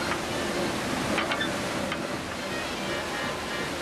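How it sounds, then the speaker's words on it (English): Water rushing out of a canal lock chamber through opened bottom gate paddles, a steady, loud broadband roar and churn that holds constant throughout with no talking. "Water is released from the lock chamber by operating the gate paddles on the"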